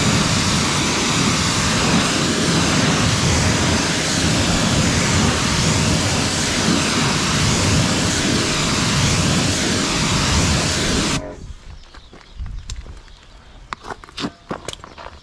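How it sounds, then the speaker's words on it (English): Water rinsing a car during detailing, a loud, steady hiss of spray running unbroken for about eleven seconds before cutting off, followed by scattered drips and knocks. "Let's give this a quick rinse."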